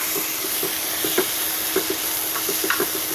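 Pipul (long pepper) leaves frying in a wok, a steady hiss of sizzling oil broken by small crackles and pops scattered irregularly throughout, close and fairly loud.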